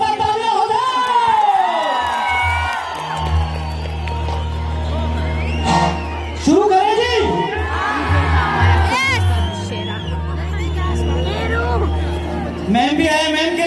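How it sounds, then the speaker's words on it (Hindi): A large outdoor crowd at a Kullu Dussehra night gathering cheers and whoops continuously, with loud bursts of shouting and babble rising at several points over a steady background hum and music-like tones. "मैम के लिए जरा जोरदार तालियां"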